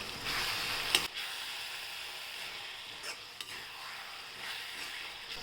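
Idli manchurian being stir-fried in a sauce in a pan, a soft sizzle with a few scraping stirs and light clinks, close but fairly quiet, no voices.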